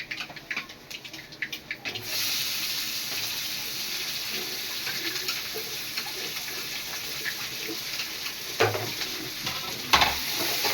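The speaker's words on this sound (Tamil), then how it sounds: "இப்போ வெங்காயம் போட்டுக்கலாம்." Onions sizzle steadily in a hot pan after a few clinks, with occasional stirring and scraping sounds close by.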